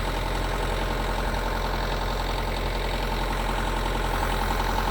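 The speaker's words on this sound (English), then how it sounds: "I'll hop back in, put the tractor back down" A Kubota LX tractor engine idles in a steady, continuous low rumble at close range, unchanging throughout with no talking.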